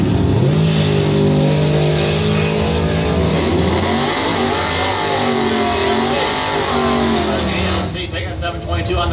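A 1969 AMC AMX and a 1984 Camaro drag race, their engines roaring loudly and continuously as revs rise and fall, with an announcer talking over the noise throughout.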